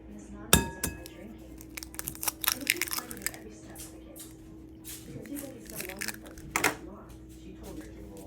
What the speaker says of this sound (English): Crack in a couple eggs.